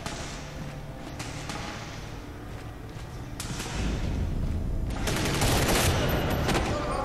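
Rapid bursts of gunfire from Medal of Honor Warfighter crackle in dense volleys, growing louder and heavier partway through with thumping impacts mixed into a continuous, intense firefight.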